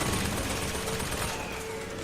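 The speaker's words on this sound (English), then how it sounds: "Oh my god, I'm getting shot from both sides." Dense, continuous gunfire from the video game Bioshock Infinite, a loud sustained barrage of overlapping shots with no pauses.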